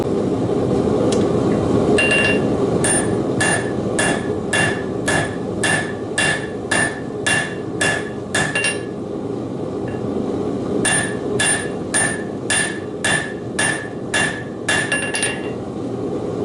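A blacksmith's hammer strikes a knife blade on an anvil in a steady series of loud, ringing metallic blows, spaced evenly with a brief pause midway, with no talking.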